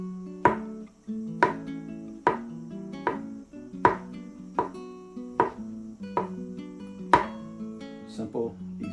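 A knife slices through mushrooms on a board, giving a steady run of sharp, close chops about once a second, each with a brief ring.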